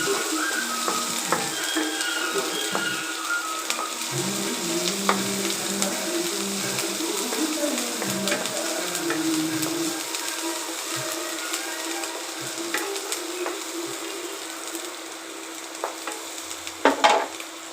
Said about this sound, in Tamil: வெங்காயத்தை போட்டு நல்லா வதக்குங்க.